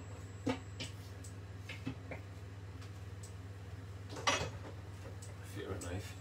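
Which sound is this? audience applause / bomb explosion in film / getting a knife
getting a knife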